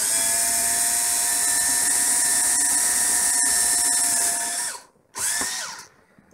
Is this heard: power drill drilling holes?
yes